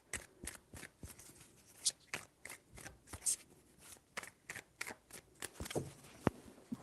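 Tarot cards being shuffled in a quick run of crisp riffling bursts and soft slaps, close and fairly loud, with no talking.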